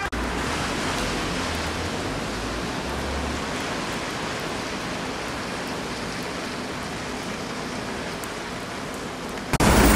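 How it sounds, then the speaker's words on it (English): Steady, dense rain falls all night and morning on the streets of Venice, a loud continuous hiss of drops on wet pavement with no voices, and a brief louder splash at the very end. "this morning it's been raining all night long, all morning"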